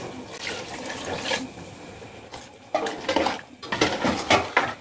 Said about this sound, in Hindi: इसमें गर्म पानी डालेंगे इसके सूप के लिए